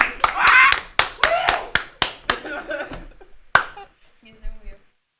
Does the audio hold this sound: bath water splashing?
no